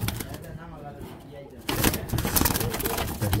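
An old-breed pigeon coos in soft, low repeated calls close by, with a louder burst of rustling midway and other pigeons murmuring in the background.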